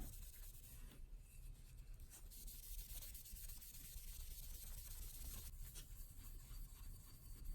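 A refinished surface is polished by hand with a fingertip and a dab of compound, making a steady, faint rubbing hiss that runs unbroken with no talk over it.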